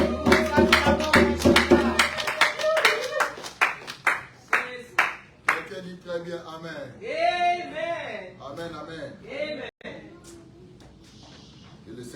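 Church congregation at a Sunday prayer and deliverance service claps for the Lord, starting with a run of sharp, rhythmic claps that thin out into scattered hits as voices and music take over.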